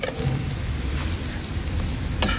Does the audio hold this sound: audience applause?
no